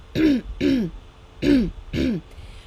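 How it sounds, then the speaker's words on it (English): Four deliberate throat clearings in a row, each a short rough rasp, evenly spaced and close by, with brief quiet between them. "First is just by clearing your throat."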